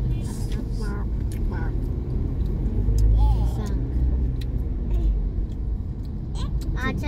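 Cars crawl through a traffic jam on a Bandung street, a continuous low engine rumble that swells around the middle. It is heard from inside a moving vehicle, with faint higher noises scattered over it.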